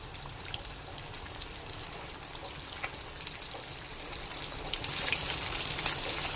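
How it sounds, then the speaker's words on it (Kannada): Rava-coated Mangalore-style buthai (sardine) fish fries in a shallow pan with a little oil, giving a steady crackling sizzle throughout that swells louder toward the end, with no talk. "ಒಂಜಿ ತವೋಗು ಪಾರ್ದು ತವೋಗು ಚೂರಿ ಎಣ್ಣೆ ಪಾರ್ದಲ ಫ್ರೈ ಮಲ್ಪೊಲಿ"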